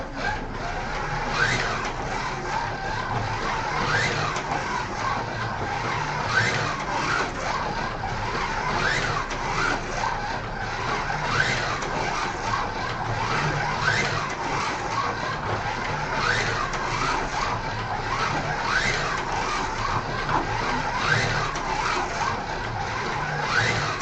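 A race car in a racing video game drives on, its engine droning steadily for the whole stretch with repeated rising and falling revs and some tire skid noise, loud and continuous.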